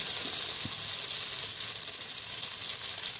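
Chopped tomato hitting a hot pan of spiced masala while cooking aloo dum, giving a steady, loud broadband sizzle that holds throughout with small crackles and pops.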